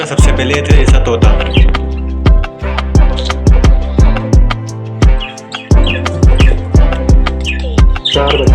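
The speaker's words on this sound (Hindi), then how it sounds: "ऑस्ट्रेलियन पैरेट होते हैं।" A flock of budgie parrots, newly unboxed pairs kept together, chirping and chattering continuously and loudly up close, dense overlapping tweets with sharp repeated clicks running throughout.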